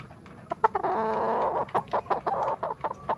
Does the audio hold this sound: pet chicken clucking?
yes